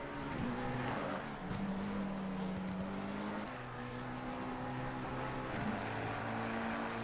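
Onboard engine note of a racing car at Barcelona in a racing video game, a loud continuous droning tone with shifting pitch steps as gears change, steady throughout.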